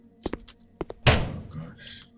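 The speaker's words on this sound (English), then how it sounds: "And now I open the locker." A metal locker door opens in a video game with a heavy thunk, followed by a rattling clatter that fades out, after a few short clicks and knocks.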